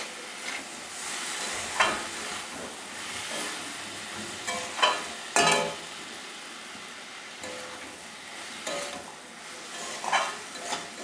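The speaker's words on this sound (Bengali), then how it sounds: "এবারে আমি হালকা ভেজে রেখেছি চিংড়ি মাছটাকে দিয়ে দেব" Lightly fried shrimp are tipped into a pan of frying taro stolons, followed by scattered spoon scrapes and clinks over a continuous soft sizzle, close by and without talk.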